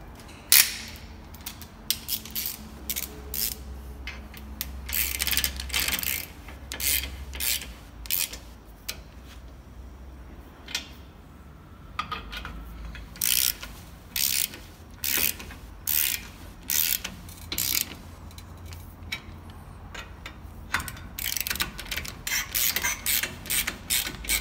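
Mounting bolts on a bull bar for a 2015-on Toyota Hilux are tightened with a ratchet, producing many close clicking bursts in irregular runs with short pauses between them.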